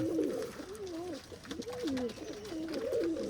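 A flying pigeon of a long-endurance breed coos repeatedly, a clear rolling coo rising and falling in several phrases close to the listener, with faint background noise.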